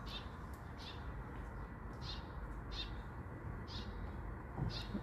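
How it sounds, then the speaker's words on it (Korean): Bird chirps repeat at a steady pace over a constant outdoor hum, each call short and bright, heard from a little distance. "짹짹 새소리가 들리네요"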